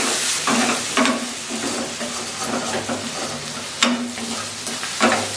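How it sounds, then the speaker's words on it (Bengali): Onions and spice paste fry and sizzle in a pan, with a spatula stirring in repeated scraping strokes over a steady hiss, close and clear. "পেঁয়াজগুলো একটু ব্রাউন হয়ে গেলেই মশলা বাটাটা দিয়ে ভালোভাবে কষিয়ে নেব মশলাগুলো"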